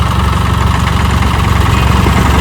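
A mini tractor engine runs steadily at close range, a continuous low diesel throb with a knocking idle rhythm and no voices over it.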